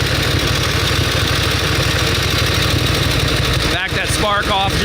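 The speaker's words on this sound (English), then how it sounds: "Now listen to how quiet this motor is, Steve." A 1916 Harley-Davidson motorcycle engine idles with a steady, even low throb, loud and close, as someone talks over it.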